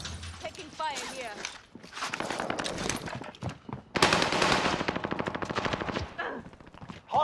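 Gunfire in a video game: rapid bursts of automatic shots crackling in quick strings, loud and close, with voices talking over the shooting.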